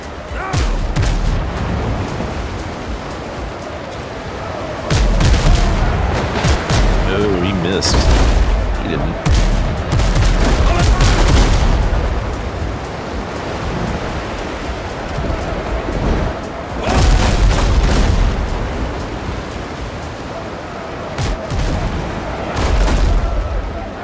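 Ship cannons firing during a naval battle in the video game Windrose, several heavy booming volleys arriving in bursts over wave and ocean ambience, with a voice calling out between the shots.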